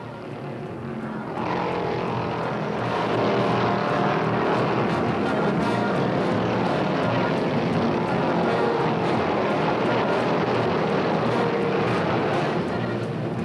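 A Dodge Charger Hemi race car engine roars steadily and loudly at the 1971 NASCAR Motor Trend 500 at Riverside, a dense, constant drone that swells slightly after the first second.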